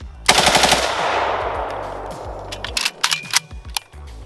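An AKS74U rifle fires a rapid burst into a watermelon, a loud close string of shots that rings out and decays, followed by scattered clicks and rattling handling noises.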